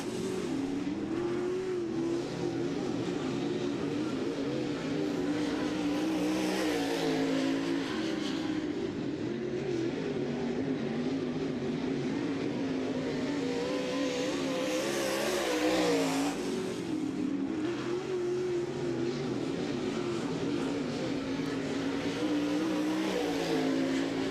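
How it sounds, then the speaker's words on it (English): Late model race car engines roar steadily through a qualifying session at the Brett Reaume Memorial Race, a loud continuous drone that swells as cars pass near around 7 and 16 seconds. "Been 3 years since Justin Coulter has been behind the wheel of a race car"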